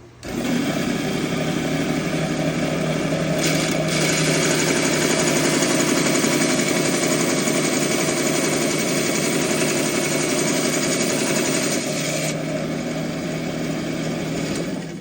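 A saw cuts partway through a coral frag plug, giving one loud, sustained high whine that holds steady for about fifteen seconds and briefly shifts tone near the end.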